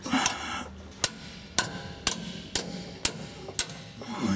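Seven sharp hammer taps strike at an even, steady pace, each a crisp metallic knock against a quiet background, while fitting a rear transmission seal on a 1999 Dodge Dakota 4x4.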